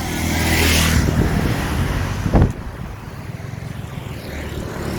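Car speeding up on a road in Jakarta, Indonesia: a loud, wind-buffeted rush of engine and road noise with a sharp whooshing surge midway before settling into a steady roar.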